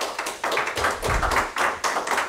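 Scattered clapping from an audience at a school board meeting in the Santa Barbara Unified School District, a small group of hands patting unevenly and fairly close, with no talking over it.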